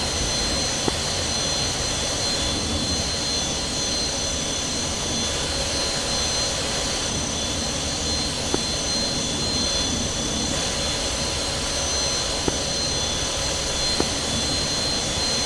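An F-86 Sabre jet engine in Digital Combat Simulator runs up with a steady, loud whining roar and broad rushing hiss, with a few faint clicks scattered through it.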